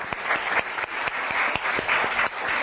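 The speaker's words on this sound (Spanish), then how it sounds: "aplauso para ellos" Participants in a public speaking session get a brief round of applause, a busy, close patter of clapping hands from a small group with a few sharp individual claps standing out, steady throughout.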